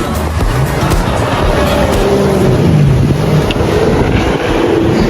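A boat ride on open water at a boating club in Pune, with steady broadband rush of wind and water and a low engine drone throughout, loud and continuous, with no talk.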